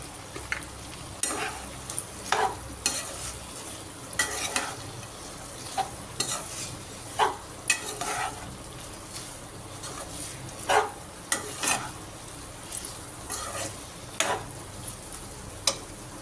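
Fried mushrooms and cabbage tipped into a hot pan and stirred, with scattered scraping clicks of a spoon against the pan over a low, steady sizzle; no talking.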